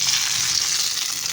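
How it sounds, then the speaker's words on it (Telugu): Fried onions and a hot spice tempering go into chicken haleem in a pan, giving a close, steady crackling sizzle with no voices. "ఇప్పుడు ఫైనల్గా కొన్ని ఫ్రైడ్ ఆనియన్స్, తర్వాత ఈ పోపు అయితే వేసుకునేయాలి."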